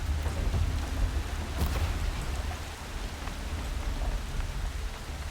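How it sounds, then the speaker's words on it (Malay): Steady rain pours in the video game Horizon Zero Dawn, a dense hiss of drops on surfaces with a low rumbling undertone, fairly quiet and continuous with no talk. "Hujan, Mat."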